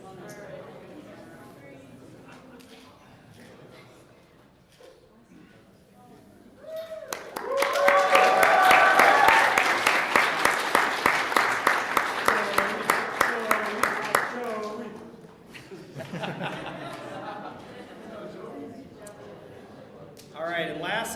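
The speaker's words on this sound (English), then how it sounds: "You just wanted to get more applause." An audience at a New Venture Competition live stream breaks into loud applause for several seconds, a dense wash of clapping that fades back down, with talk before and after it.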